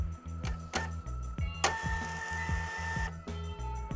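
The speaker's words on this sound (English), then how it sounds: "The media now prints with even pressure and good resolution." A Zebra ZT230 thermal label printer prints nearby, steady rhythmic mechanical ticking and whirring with a brief higher motor whine in the middle, moderately quiet and with no voices.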